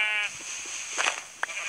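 A sheep bleating in a video game, one short wavering bleat at the start followed by brief faint game blips, close and clear with no talk.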